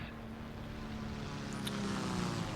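Propeller engines of a Bf 109Z-1 twin-fuselage fighter drone steadily in War Thunder, a loud, continuous low hum with a faint brief chime partway through.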